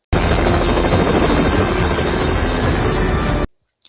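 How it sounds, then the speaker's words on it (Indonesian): Loud, steady thudding roar of a helicopter's rotor close by, continuous for a few seconds, then cutting off abruptly to silence. "pasukan bertopeng itu menyelamatkan Karisma, lalu membawanya menggunakan helikopter."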